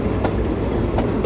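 A very long passenger train rolls past close by on the east side of a city, a loud continuous rumble with rhythmic clickety-clack of wheels over rail joints.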